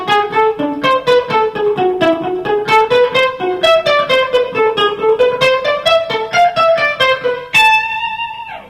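An electric guitar plays a clean, flowing melodic minor sequence of evenly picked notes climbing and falling, ending on a sustained ringing note.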